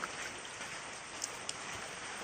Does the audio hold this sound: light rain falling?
yes